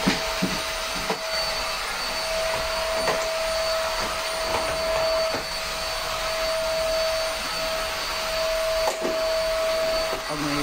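On board a ship, a vacuum cleaner runs continuously up close with a loud, steady droning whine and occasional bumps and knocks as it moves across surfaces.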